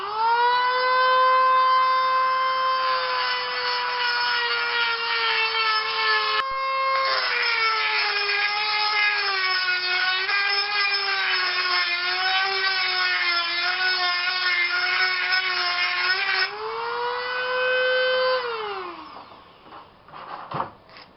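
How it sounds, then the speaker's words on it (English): A Dremel rotary tool enlarges a hole in a broken reclining chair part, giving a loud, continuous high-pitched whine that rises and dips in pitch with load for about eighteen seconds before winding down. "Dremel."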